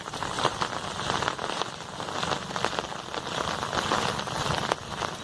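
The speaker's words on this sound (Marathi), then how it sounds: "मस्त आहे की पाऊस पडतोय" Steady rain falls in a village during the monsoon, a dense, even hiss of drops hitting surfaces with scattered sharper patters, close and continuous throughout with no voices.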